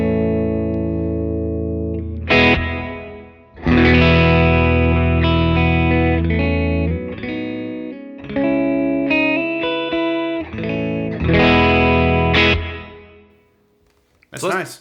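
Electric guitar played through a Walrus Audio Fundamentals pedal with the reverb off, ringing chords and single notes with a slight distorted edge, loud and up close, pausing briefly between phrases.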